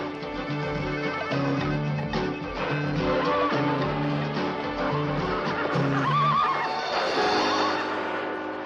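A horse whinnies on a 1972 television talk show stage, a shrill wavering neigh rising over a busy mix of loud music or crowd sound with rhythmic low thumps.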